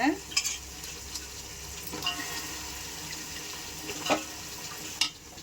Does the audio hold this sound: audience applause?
no